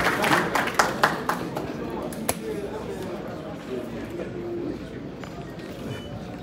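A handful of scattered claps from an audience at a formal university chair launch ceremony, quickly thinning out into room murmur and faint background voices.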